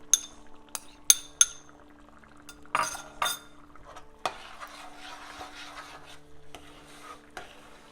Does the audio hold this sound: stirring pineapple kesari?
yes